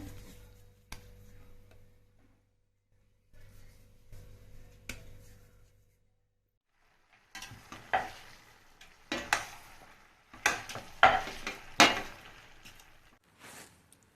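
Oil heating in a pan for frying puris in a home kitchen: faint ticking and a low hum at first, then a busier stretch of crackling sizzle and sharp taps, with no talk.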